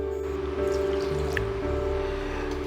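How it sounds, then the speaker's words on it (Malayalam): Water, two glasses' worth, is poured over blocks of jaggery in a pan to make jaggery syrup, giving a close, steady trickling and dripping pour without talking. "നമ്മൾ ഈ ശർക്കരയ്ക്ക് ആവശ്യത്തിനുള്ള വെള്ളം പാനി ഉണ്ടാക്കാനായിട്ട് നമ്മളിപ്പോൾ ഇവിടെ 2 ഗ്ലാസ് വെള്ളമാണ് ഒഴിച്ചാക്കണത്"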